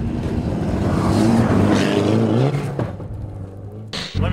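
An SR20-engined BMW, a cheap chopped-up project car, revs loudly and steadily up close, its engine note rising and holding before dropping off near the end, with no one talking over it.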